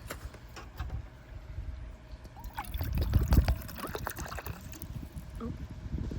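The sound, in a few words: water being poured for cooking at a campsite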